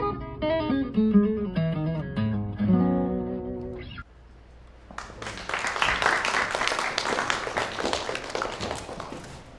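Tonal music plays and then cuts off, and after a short pause an audience breaks into loud, sustained clapping and applause for a performance.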